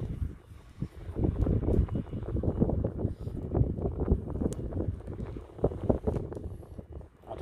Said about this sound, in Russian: Видите, какой сильный ветер.